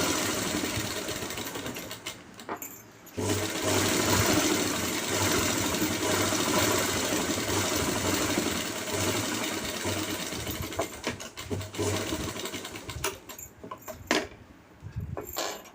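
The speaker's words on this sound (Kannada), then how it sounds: "ಅದಕ್ಕೂ ಡಬಲ್ ಸ್ಟಿಚ್ ಹಾಕಿ ಎಜ್ ಸ್ಟಿಚ್ ಹಾಕ್ಕೊಳ್ಳಿ" Sewing machine running double and edge stitches on a pant belt piece, a fast steady whirring hum in long bursts with short pauses and handling clicks between runs.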